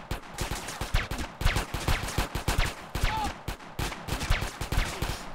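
Rapid bursts of gunfire from GTA San Andreas gameplay crack out in a steady, repeated rhythm, loud and close, continuing throughout with little pause between shots.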